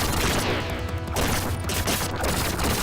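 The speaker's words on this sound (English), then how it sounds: "I'm just going to show you what the bombs are like real quick" Bomb blasts from the 1988 Irem arcade game Ninja Spirit: a dense, continuous run of crunchy booms and rattling bursts laid over chiptune music, loud and steady across the whole stretch.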